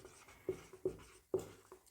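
A pen writing a question heading by hand on paper, with a few soft, close scratching strokes in an uneven rhythm, faint and with no talking.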